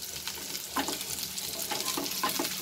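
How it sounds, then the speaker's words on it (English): Cauliflower pieces fry in hot oil for aloo gobi, a steady, dense sizzle and crackle that holds at an even level throughout, with no voices. "So here our cauliflowers are fried nicely."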